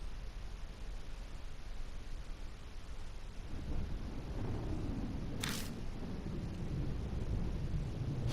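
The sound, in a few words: distant thunder rumbling in the video game Death Mark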